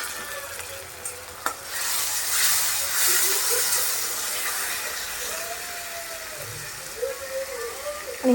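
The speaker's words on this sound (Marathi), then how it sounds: "आपण ह्याच्यामध्ये टोमॅटो टाकूयात. टोमॅटो परतून घेऊयात." Tomatoes sautéing in a pan for a Maharashtrian cowpea usal, with a continuous sizzle, close stirring and scraping, a sharp clink early on, and faint voices in the background.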